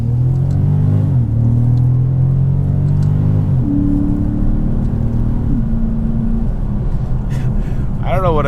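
A 2011 Infiniti M56x V8 at full throttle, rising in loud harmonic sweeps with two gear-shift dips before settling into a steady drone; a brief voice cuts in at the very end.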